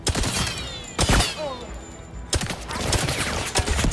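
Rapid gunfire from snipers and other enemies in the video game 007 First Light, sharp bursts of shots with a heavy barrage around the one-second mark and more volleys after, loud and dense throughout.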